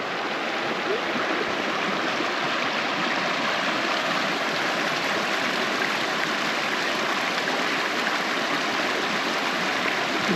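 A babbling brook near Ross Lake, close to Hope in British Columbia, flows steadily nearby with a continuous, even rush of water and no voices.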